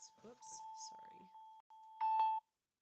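A mobile phone gives a notification chime: a steady electronic tone with brief bright chimes layered on top, ending in a louder burst before cutting off, with soft sounds of nearby activity in a quiet room.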